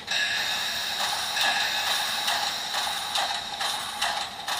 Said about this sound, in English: And then that should change the volume of our air pump.